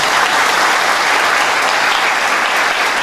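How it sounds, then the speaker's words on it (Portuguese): Steady, dense applause from an audience welcoming Heitor Freire at a political evening event in Fortaleza, a loud continuous wash of clapping with no talk over it. "Queiram agraciar com a salva de palmas nosso querido Heitor Freire"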